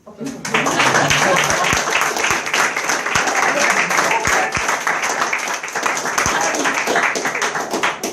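An audience breaks into loud applause, dense clapping swelling in quickly and sustained throughout, with some voices mixed into the crowd.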